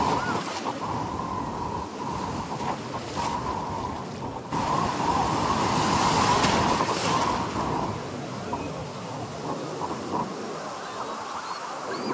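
Sea waves roll steadily at Puri beach on the Bay of Bengal, a continuous broadband wash of surf mixed with wind buffeting the microphone.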